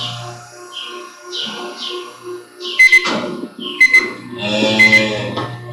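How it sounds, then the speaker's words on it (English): A timer beeps during freeze branding of cattle, with a few short tonal bleeps early on, then bursts of steam hiss, clanks and cattle noise around a chute. "Now their timer went off"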